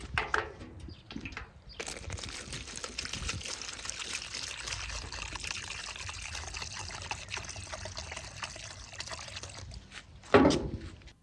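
Varnish-removing cleaner poured from a gallon jug into a 40-year-old fuel tank, a loud, close, continuous gurgling stream lasting several seconds before stopping, with a brief clunk of handling at the end and no talk.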